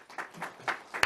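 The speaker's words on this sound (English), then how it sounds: "Jerome Powell's clap" A few scattered, separate claps in a small setting after remarks by Jerome Powell, spaced bursts that sound faint and somewhat distant within a short stretch.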